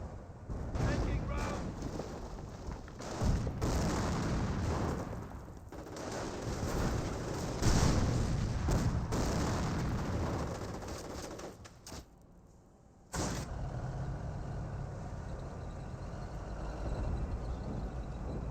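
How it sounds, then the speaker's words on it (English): Rocket fire and explosions in a Company of Heroes 1 battle between Panzer Elite and British forces, heavy, dense booms and crackling blasts rolling almost continuously, dropping out briefly before resuming, with a voice talking over the din. "We're taking rocket fire."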